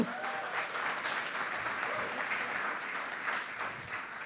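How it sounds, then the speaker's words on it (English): A conference crowd at a county drug summit applauds steadily, dense clapping that holds at a fairly even level throughout. "let's give them another round of applause"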